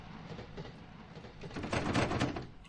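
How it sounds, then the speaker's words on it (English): Rumbling train noise with rhythmic clattering in the video game Teke Teke: Moonlit Dread swells as it passes close by, getting loudest near the end before easing slightly. "Oh, why do I hear a train?"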